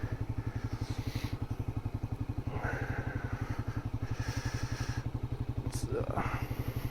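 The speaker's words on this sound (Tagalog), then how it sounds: "Ipapark natin ng maayos yung motor natin." A motorcycle idles nearby with a steady, rapid putter while being parked near a tunnel, the thumping pulse constant throughout, with a couple of faint higher sounds over it.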